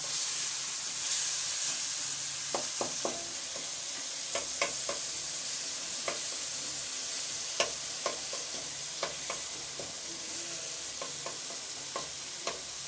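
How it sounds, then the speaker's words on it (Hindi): Chicken fries in a karahi for white chicken karahi, a steady sizzling hiss running throughout with scattered sharp clicks and taps of stirring spread across the clip. "चिकन हमारा अच्छी तरह से फ्राई हो रहा है।"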